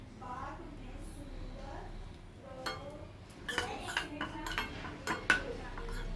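A spoon clinks and scrapes against a bowl as butter is mixed with a little coriander, with light taps at first and then a run of sharper metallic knocks toward the end. No one speaks.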